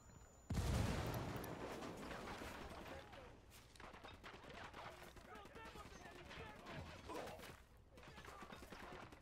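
Bursts of automatic gunfire erupt in the Ghost Recon Wildlands video game, starting with a sudden loud volley and continuing as rapid, repeated shots through the rest, with voices talking beneath.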